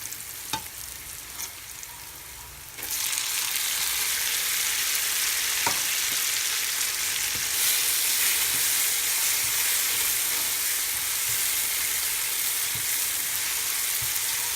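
Tomatoes hit a pan of sautéed ginger-garlic paste for mutton biryani, the frying jumping to a loud, dense sizzle about three seconds in that then holds steady and close, with occasional faint clicks and no voices.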